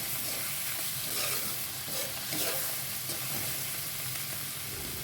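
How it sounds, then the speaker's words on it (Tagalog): Garlic, a medium onion and canned sliced mushrooms sauté in a pan, giving a steady, close frying sizzle with a few soft stirring scrapes and no voices. "Igigisa natin at tatakpan ng ilang minuto."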